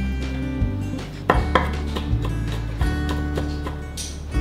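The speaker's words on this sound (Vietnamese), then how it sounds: "Bây giờ mình sẽ băm nhỏ và mình sẽ cho vào trong thịt." A knife chops soaked wood ear mushrooms on a board in a home kitchen, a few irregular sharp knocks over a steady low hum.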